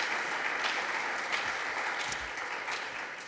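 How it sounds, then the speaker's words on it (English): An audience claps warmly for a speaker at a community gathering, a steady, moderately loud patter of many hands lasting the whole stretch. "Let's give him a big, warm round of applause."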